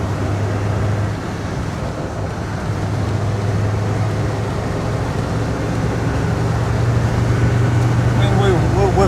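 A customised Land Rover Defender 110 TD5 cruises in fourth gear at about 40 mph, its diesel engine and road noise making a loud, continuous drone that holds steady throughout.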